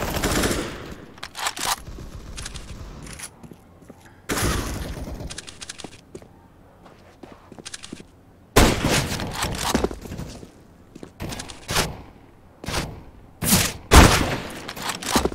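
Gunshots ring out in scattered bursts, sharp loud cracks separated by short quieter gaps, some shots close together in quick succession.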